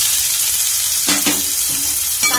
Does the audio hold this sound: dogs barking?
no